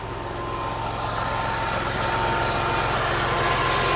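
A 1999 Porsche Carrera with a modified exhaust and heavy V-flow intake idles steadily at about 800 RPM, a low, even rumble with a regular pulsing beat that holds constant throughout, close and fairly loud.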